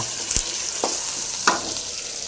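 Bitter gourd frying in a pan for a stir-fry, a steady broad sizzle with a few sharp stirring knocks of a utensil against the pan.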